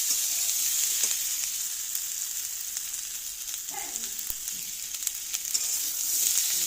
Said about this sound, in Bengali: তো আলুটা ভেজে পেঁয়াজটা দিয়ে দিয়েছি।